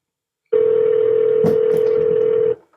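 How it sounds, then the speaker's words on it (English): A single long electronic phone ring of about two seconds on a Google Voice call, loud and clear, steady in pitch, then cutting off into silence. "That's why he letting the phone ring."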